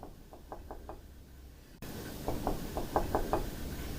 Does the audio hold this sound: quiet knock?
yes